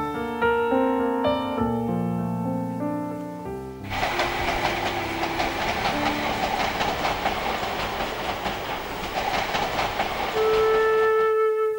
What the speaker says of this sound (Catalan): el tren que va a Paterna i el que ve de Paterna